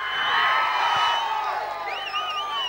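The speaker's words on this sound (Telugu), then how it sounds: "సో గోపీచంద్ గారు ఆయన ఫ్యాన్స్ అందరూ ఒకసారి క్లాప్స్ కొట్టండి" A crowd of fans cheers and claps for Gopichand at the Loukyam movie audio release function, producing a loud, sustained wash of applause and whoops, with a few rising whistles near the end.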